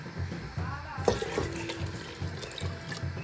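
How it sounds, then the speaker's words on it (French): Water pours from a bowl into a cooking pot on the stove for chicken meatball soup, a steady splashing stream with a sharper splash near the middle, fairly close and without talk. "Donc, je rajoute environ 2 bols d'eau."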